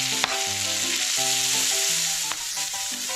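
Chopped onion sizzles and fries in a pot roast pan after the meat is removed, a steady close crackle with a few sharp stir clicks and tones underneath, no talking.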